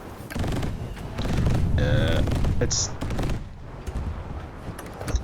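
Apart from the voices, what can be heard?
automatic cannon firing in a video game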